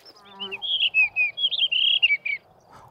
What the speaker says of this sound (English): The blue rock thrush.